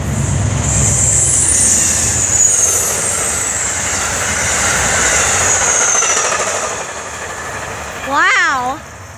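An Amtrak passenger train rumbles past nearby with a loud, continuous roar and high wheel squeal, ending with a brief horn-like warble; voices are heard over it.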